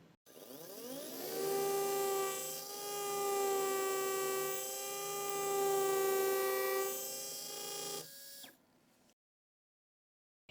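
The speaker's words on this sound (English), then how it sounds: "Place it in the sleeve and proceed with the drilling." A surgical drill from a guided surgery kit drilling into hard bone: a loud high whine that rises in pitch at the start, holds steady for about eight seconds with slight swells, then winds down and stops.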